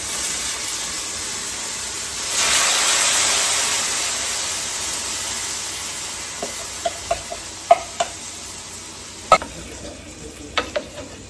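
Diced tomato and paprika cooking in a pan for paella, a soft continuous sizzle that swells to a hissing burst early on, then settles while sharp utensil taps and clicks scatter through the second half, close and without talk.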